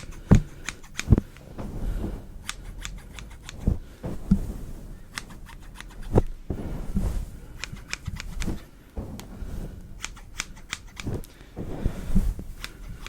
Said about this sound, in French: je prends juste un ciseau normal et en fait je viens moi définir les mèches que je veux couper